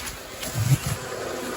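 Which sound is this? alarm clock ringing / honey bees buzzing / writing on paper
honey bees buzzing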